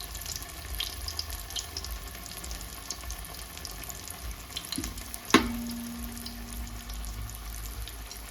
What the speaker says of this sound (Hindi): तो फुल फिश फ्राई कर रहे हैं हम